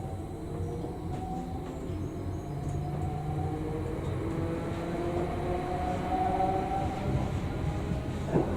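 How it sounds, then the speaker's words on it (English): A passenger train on the Harwich line heard from inside the carriage, a continuous low rumble and rhythmic rattle of wheels on rails with faint whines, steady and moderately loud throughout. "We've made it onto the Harwich train."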